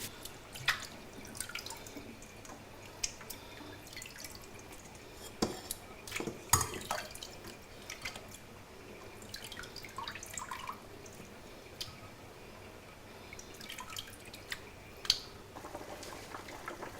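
Water drips steadily while anchovies are rinsed in a kitchen, with soft irregular drops and faint clinks of dishes close by in an otherwise quiet room.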